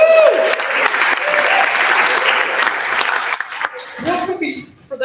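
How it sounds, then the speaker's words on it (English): An audience at a rehearsal gathering applauds as a guest comes up, with steady full clapping that thins out toward the end as a voice begins speaking over the fading claps. "Let's give her a round of applause"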